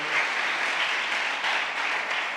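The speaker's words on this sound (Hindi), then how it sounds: "5 people are believing and they're clapping for it." Small group of people clapping in a church congregation during a sermon, a steady, even patter of applause at moderate volume with no talking.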